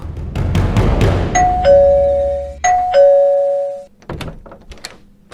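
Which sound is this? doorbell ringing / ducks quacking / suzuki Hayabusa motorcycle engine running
doorbell ringing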